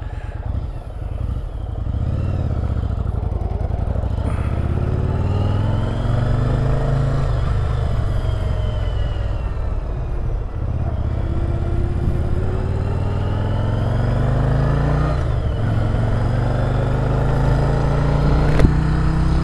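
A Yamaha Virago 750 twin motorcycle is ridden, its engine droning loud and close throughout, rising and falling as it shifts through gears, with wind rush and a steady low throb.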